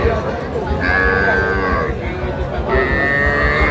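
Young bull calves at a cattle market moo twice in long drawn-out calls amid a noisy crowd of voices and other livestock.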